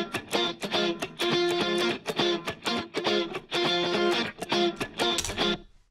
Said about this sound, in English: So you're actually literally hearing the string being strummed.